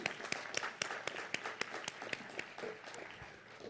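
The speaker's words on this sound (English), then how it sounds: "give them an applause" Applause at a college commencement ceremony, a modest crowd clapping with several sharp individual claps standing out near the front, gradually thinning.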